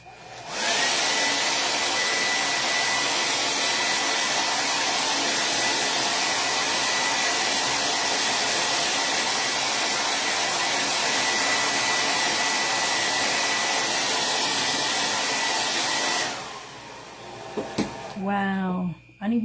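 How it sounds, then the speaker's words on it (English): A handheld hair dryer blows steadily and loudly at close range on a homemade craft reindeer for nearly the whole clip, then shuts off, leaving a few brief handling noises at the end. "I'm gonna blow dry this just a little bit."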